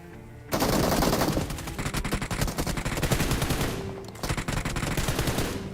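Sustained rapid automatic gunfire in the BGMI battle royale game as an enemy is knocked and finished, loud, dense bursts with a brief pause near the four-second mark, no voices.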